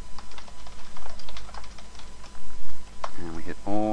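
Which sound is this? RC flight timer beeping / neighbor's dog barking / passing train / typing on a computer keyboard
typing on a computer keyboard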